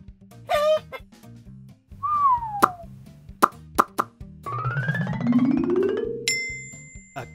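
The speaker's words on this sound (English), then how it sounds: "Chicken!" A cartoonish chicken clucks once near the start, followed by bouncy plops, bell-like dings and a playful tune.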